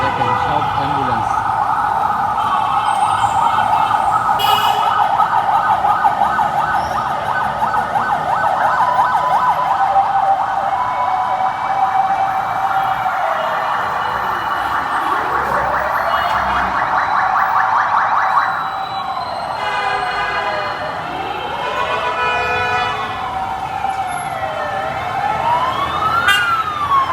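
Ambulance sirens wail loudly and continuously during an ambulance drivers' and owners' strike outside the Secretariat, several overlapping wails and rising-falling sweeps from vehicles moving forward one by one, with traffic noise and some voices underneath.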